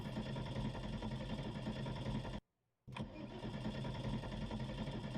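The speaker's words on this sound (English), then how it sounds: "Car won't start. Listen." A race car engine in Automobilista 2 cranks repeatedly without catching, a loud rapid mechanical churn that cuts out briefly before cranking again.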